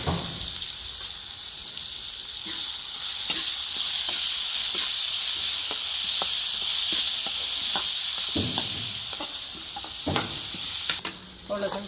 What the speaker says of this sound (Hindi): अब इसमें डाल देंगे लहसुन प्याज।